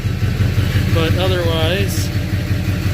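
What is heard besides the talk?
LLY diesel truck engine running with MBRP exhaust, exhaust leak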